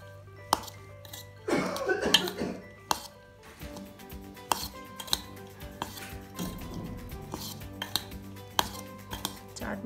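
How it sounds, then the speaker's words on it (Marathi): Masala corn chaat with squeezed lemon being mixed in a bowl, a spoon clinking repeatedly against the dish in sharp, irregular taps, with a brief rustling stretch early on and quiet room background. "आता हे चांगलं मिक्स करून घेऊयात आपण."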